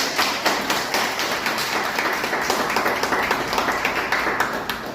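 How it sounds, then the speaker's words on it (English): Audience applause at a Toastmasters public speaking club meeting in East Delhi, a dense steady patter of many hands clapping close by for several seconds. "Let's give a round of applause to Naveen."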